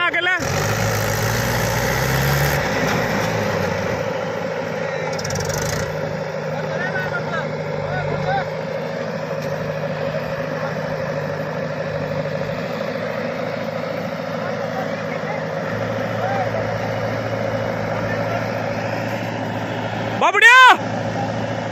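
A tractor engine idles steadily at close range while a JCB loads soil into a large trolley, a low continuous rumble throughout with voices talking over it and a short louder burst near the end.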